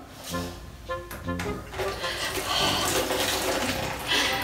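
Tap water runs steadily into a sink while dishes are washed, a continuous splashing hiss that swells and settles, with bursts of speech near the start.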